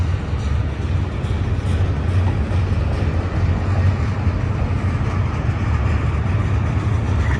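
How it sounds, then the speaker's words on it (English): Empty freight train rolling past near Route 66 at Blue Cut, a steady broad rumble and rail noise holding even and close for the whole stretch. "Can't see the end of the train yet."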